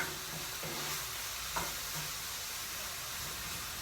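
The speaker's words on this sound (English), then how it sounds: "So I'm just sweating these vegetables a little bit" Vegetables sautéing in a pan for sausage and shrimp creole, with a steady broadband sizzle and a few faint stirring scrapes, one brief clink near the middle.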